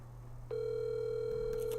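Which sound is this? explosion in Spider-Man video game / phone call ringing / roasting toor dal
phone call ringing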